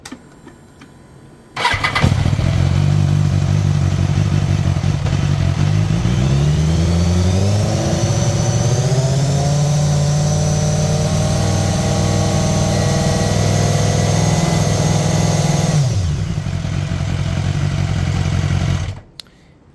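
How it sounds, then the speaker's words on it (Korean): A motorcycle engine catches and starts, then revs up steadily to about 4000 RPM and holds there loudly before dropping back and cutting off, run during a battery charging-system check. "시동을 걸고 RPM을 4000 RPM까지 올려봤는데 그래도 전압이 올라가지가 않죠"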